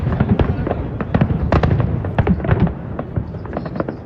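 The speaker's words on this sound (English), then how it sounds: "if you ain't getting no fireworks at home, I got the fireworks right here." Dense barrage of fireworks bursting around New Year, many sharp cracks and pops in rapid irregular succession, loud and close, with a faint voice underneath.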